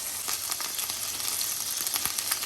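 Salmon and tomato sizzle and fry in a covered pan, giving a steady close crackle with scattered pops and no talk.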